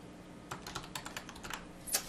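Quiet typing on a computer keyboard while editing audio, a run of about a dozen soft, uneven key clicks with a slightly louder tap near the end, close but faint, with no talk.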